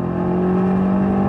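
A BMW M8 Competition with an 8-speed ZF transmission pulling hard under full throttle, its engine holding a loud, steady, close droning growl throughout.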